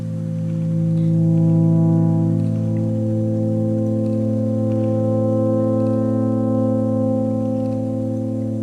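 Albion Tundra virtual instrument grid texture: a sustained, droning orchestral pad of layered low and mid tones, swelling gently and then holding steady with faint textural noise over it, no voices.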